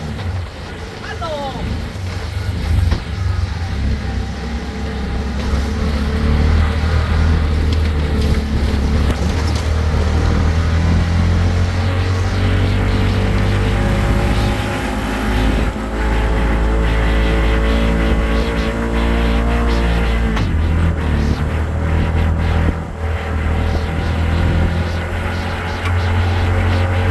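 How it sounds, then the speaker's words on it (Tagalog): Sand-hauling trucks roll past on a mountain road with a loud, continuous low engine rumble and tire noise that swells and shifts for the whole stretch, while people talk over it. "Mga truck na umaakot ng buhangin at binibenta nila yan."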